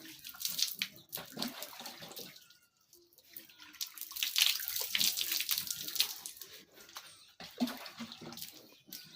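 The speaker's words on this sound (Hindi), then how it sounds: "पूरा जिस्म जो है पानी से तर करें। 3 बार दाहिने साइड से पानी डालें।" Water is poured repeatedly over a person's body during a ritual bath, making close splashing gushes in several bursts with short gaps between them.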